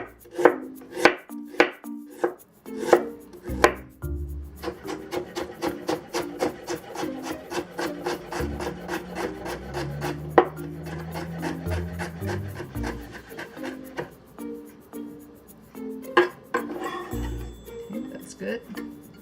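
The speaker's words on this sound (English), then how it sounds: "And we'll also shred the ginger" A knife shreds fresh ginger on a wooden cutting board in sharp, rapid chops that come in quick bursts. The chopping is close and crisp, with softer rubbing and scraping in between.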